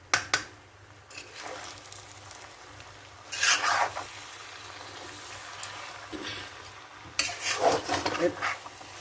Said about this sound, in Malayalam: അപ്പം ഇനി നമുക്ക് ചെയ്യേണ്ടുന്ന നല്ല ഇളക്കി യോജിപ്പിക്കുക